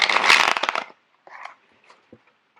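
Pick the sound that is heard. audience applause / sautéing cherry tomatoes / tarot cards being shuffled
tarot cards being shuffled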